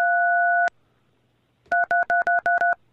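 Telephone keypad tones while navigating an automated phone menu: one long dual-tone beep, a pause, then six quick evenly spaced key presses, clean and close with no voices.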